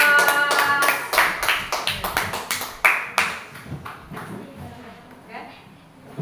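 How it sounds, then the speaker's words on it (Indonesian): A classroom group claps after a presentation, a quick burst of many hands that fades out over several seconds, with a voice speaking over the start. "Berikan aplaus."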